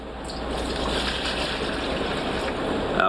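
About 900 millilitres of cold water pours steadily into a mixing vessel for gluten-free bagel dough, a continuous close gush that holds at an even loudness for the whole stretch, with no talking.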